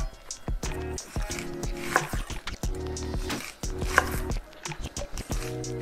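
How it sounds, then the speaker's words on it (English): A knife chops steadily through onion on a cutting board, with quick repeated cuts and soft crunches up close. "So basically we're just slicing the onions,"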